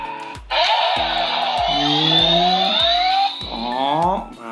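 Electronic voice and chime effects from a Kamen Rider Geats Desire Driver toy summoning the Boost Striker: a burst of layered synthesized tones and a rising jingle over a rhythmic electronic beat, loud and close, with no talking.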